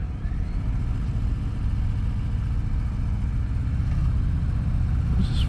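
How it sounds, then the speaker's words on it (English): Steady engine rumble from passing motorcycles, including a 2021 Harley-Davidson Sport Glide, a continuous low drone with some revving, fairly loud and close, no talking. "Don't mind all these motorcycles"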